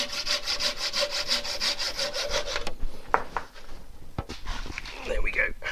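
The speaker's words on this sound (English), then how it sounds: "rather than part it off all the way, just get the saw on it" A hand saw rasps through a monkey puzzle wood end grain bowl blank held on a lathe, with steady back-and-forth strokes up close that stop partway, followed by scattered knocks and handling sounds.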